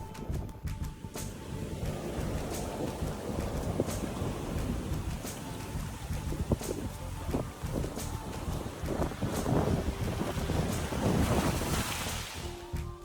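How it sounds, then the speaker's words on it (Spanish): Mediterranean surf washes steadily onto a beach while wind gusts across the microphone. The rumble is continuous, with no speech. "Lo primero que hice fue llevarlas a la playa, y pasaron el día en el mar Mediterráneo."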